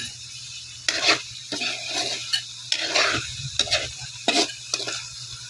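Sautéed liver sizzles in a pan as it is stirred, with repeated scraping strokes of the utensil against the metal over a steady frying hiss and a low hum, and no talking.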